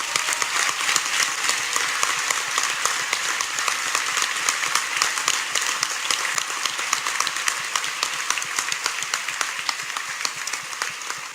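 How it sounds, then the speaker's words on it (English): Large audience at the 2016 White House Correspondents Dinner gives sustained applause, a dense, even roar of many hands clapping for over ten seconds with no speech over it. "Please give them a big round of applause."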